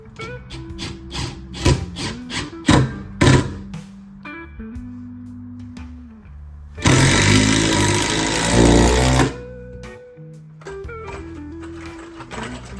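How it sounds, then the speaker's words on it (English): Power drill drives four screws into a small 2x6 scrap wood frame, with short whirring bursts and clicks, then a long loud run, then more brief bursts up close. "I'm going to sink 4 screws into this little frame here."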